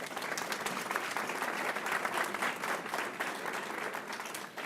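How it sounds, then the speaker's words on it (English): Audience applause for four York Elementary students called forward at a Board of Education meeting, a steady, dense clapping from a room-sized crowd that holds for several seconds. "Let's give them a round of applause."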